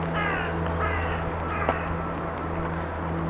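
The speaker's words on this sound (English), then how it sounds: "So a crow then, and Sash is doing the sound." A crow's caws repeat a few times at moderate distance over a steady low background hum, with one sharper call standing out midway.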